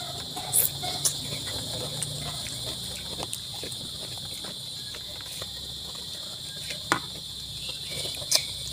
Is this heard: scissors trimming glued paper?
no